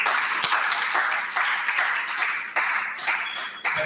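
An audience applauds at the close of a certification course session, a dense, fairly close patter of many hands clapping steadily with small bursts, no voices.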